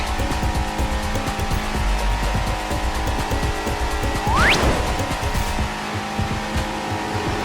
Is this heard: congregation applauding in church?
no